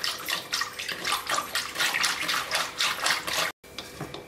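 Ragi porridge is stirred vigorously with water in a pot, a continuous wet swishing and sloshing that pulses with each stroke, close and fairly loud, cutting off briefly near the end before resuming.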